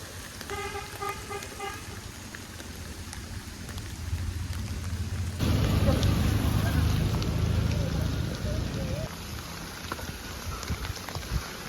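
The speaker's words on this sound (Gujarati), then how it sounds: "ચાલુ વરસાદમાં એ પણ." Steady rain falls during a journey through hills, heard from inside a vehicle, with a short horn toot near the start and the rain growing louder and denser partway through.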